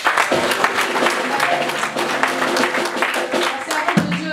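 Congregation in a French-speaking church applauding and cheering together, a dense, continuous wash of clapping that runs steadily throughout with voices mixed in.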